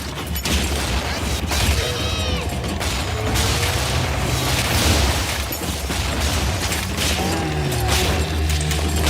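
Frag grenade explosions in BioShock, dense booming blasts and shattering debris layered over constant game clamor and mechanical noise, loud and continuous throughout with no clear pauses.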